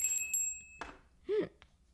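A small hand bell, like a bicycle bell, rings a couple of bright, brief times right at the start, then fades, followed by quieter, faint sounds in an otherwise quiet room.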